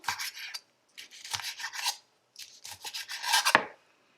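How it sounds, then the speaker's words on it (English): Knife slicing through a Scotch bonnet pepper on a board, several bursts of rasping, scraping cuts with short pauses between them, close and fairly loud, ending in a firmer chop. "Slice the pepper."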